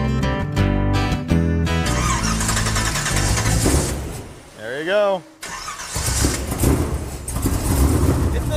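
An old car engine with 4-inch exhaust and bullet mufflers cranks and catches, then runs loud and rough with a deep rumble, with someone speaking briefly over it.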